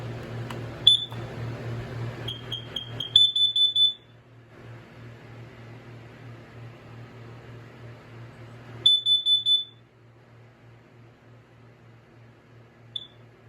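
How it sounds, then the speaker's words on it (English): A Kidde carbon monoxide alarm that runs on AA batteries is being tested: loud, close, shrill electronic beeps sound in short bursts, then a pause, then a quick cluster of several beeps and one final lone chirp. "We'll test it after I test the Kidde CO alarm that takes AA batteries."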